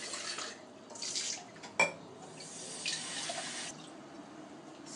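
A small splash of water goes into a pot of jollof rice, faint and close, with soft pouring and dripping, a sharp clink of a utensil against the pot, and light kitchen rattles.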